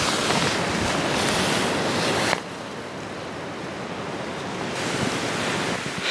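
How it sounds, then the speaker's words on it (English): Strong wind roars across an exposed clifftop campsite while backpacking, a loud continuous rushing that buffets the microphone, eases briefly, then builds again, with no talking. "These are some strong winds."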